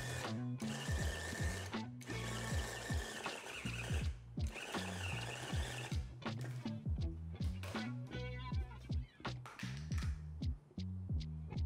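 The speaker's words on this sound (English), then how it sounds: "throw them into the food processor, and we'll blend until it turns into a paste" A food processor blends pork fat into a paste in batches, whirring with a throbbing motor hum and repeated pulses and short stops, close and steady.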